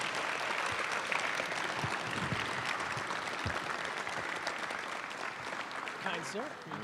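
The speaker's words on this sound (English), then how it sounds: "please give a warm round of applause for Cedric Cornbread Maxwell" Sustained, dense applause from a live audience welcoming a guest onto an interview stage, steady and fairly loud throughout with no clear break.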